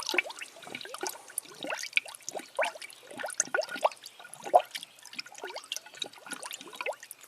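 Coolant is poured through a spill-free funnel into the low cooling system of a Jeep Pentastar V6, giving soft, irregular gurgles and bubbly glugs that continue quietly with no talking.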